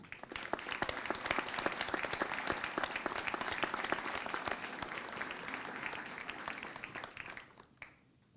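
An audience at a high school graduation ceremony claps in sustained, dense applause that holds steady for several seconds before quickly dying away to a few last claps.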